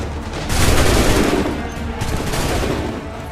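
A massed musket volley in Assassin's Creed 3 Remastered cracks out loudly and is followed by a rolling, crackling tail of gunfire and echo over a few seconds.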